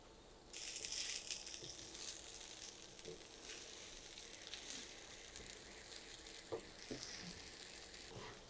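Rice for pulao sizzles and crackles as it fries in a pot, with scraping stirring strokes and a steady hiss from start to finish and no voices.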